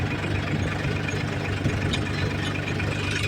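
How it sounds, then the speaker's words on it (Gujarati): A tractor engine idles close by with a steady, unbroken mechanical rumble and no voices. "ટ્રેક્ટર જોઈ લ્યો"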